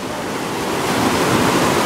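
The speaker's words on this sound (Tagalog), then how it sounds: "Lumalakas yung alon." Ocean waves surge against a shore, a steady, roaring wash of surf that swells slightly louder over a couple of seconds, close and continuous with no voices.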